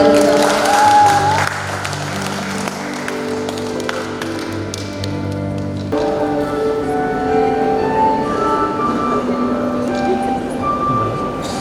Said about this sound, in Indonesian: Boleh berikan aplaus untuk kita.